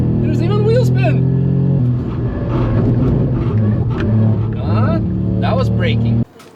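A VW up GTI accelerating hard on the Nürburgring, its engine drone rising and steady from inside the cabin with a voice talking over it, then cutting off abruptly near the end.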